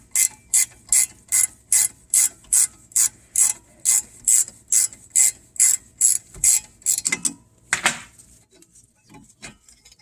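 A ratchet cranks a rusty rear brake bolt loose on a Mustang Cobra, a rapid run of about fifteen close, loud, evenly spaced clicking strokes that slows and breaks off near the end.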